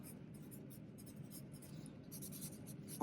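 Pen or pencil writing on paper, close scratchy strokes in quick repeated bursts, steady throughout with no talking.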